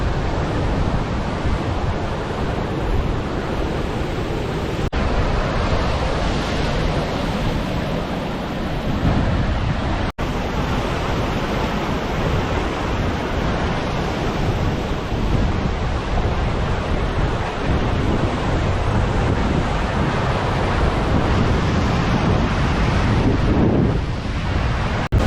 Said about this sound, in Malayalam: പക്ഷെ കടൽ നല്ല കലിപ്പിലാണ്.